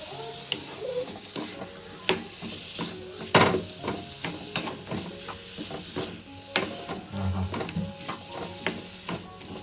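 Dried fish sizzles and crackles in a hot pan while a utensil scrapes and stirs at irregular intervals, close and moderately loud.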